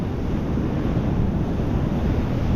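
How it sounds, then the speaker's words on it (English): Crashing ocean waves on a beach, a loud continuous roar of surf with heavy wind buffeting the microphone throughout and no voices. "How's that for some waves?"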